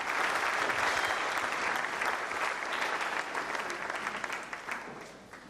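Audience at a youth-focused conference gives a pastor a loud, dense round of applause that holds strongly and then tapers off toward the end.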